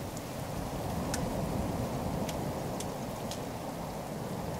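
Steady rain falls in the survival video game The Forest, a dense continuous hiss of drops on surfaces with a few faint sharp ticks, even and unbroken, no voices.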